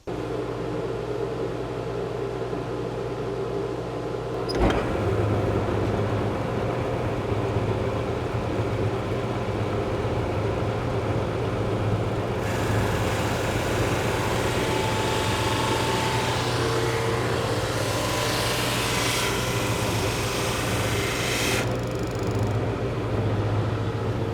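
A drum sander drones steadily with a low hum, then a brighter abrasive hiss of sanding wood rises midway and fades before the end, all close and loud.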